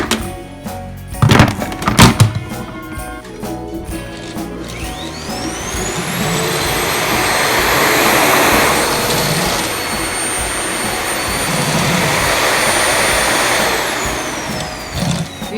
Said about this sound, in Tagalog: Mag-vacuum na to.